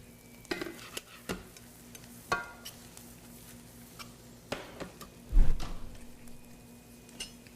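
Butter and brown sugar cooking in a pan, a low steady sizzle broken by several sharp scrapes and clacks of stirring and a heavier clatter near the end, with no talking.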